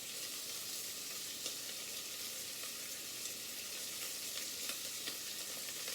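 Garlic and pepperoni sauteing in a pan, giving a steady close sizzle and crackle with occasional small pops, no voices.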